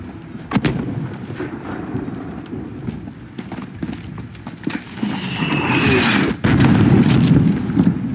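Weapons fire in a war-game battle with mortar teams: several sharp booms and cracks scattered over a steady rumbling background, with one louder blast near the end.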